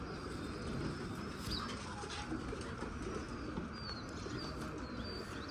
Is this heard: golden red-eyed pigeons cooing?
yes